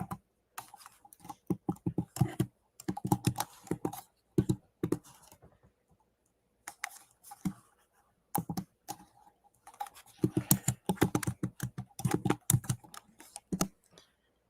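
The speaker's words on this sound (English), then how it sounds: "I cannot see what I'm typing." Typing on a computer keyboard comes in quick bursts of clicky keystrokes, separated by short pauses, close and clear with no talking.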